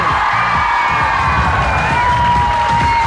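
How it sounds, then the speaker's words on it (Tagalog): A crowd at a Filipino gathering cheers and shouts continuously, loud and close, with whoops and children's voices rising over a dense wash of noise. "Palakpak na may kasamang hiyaw"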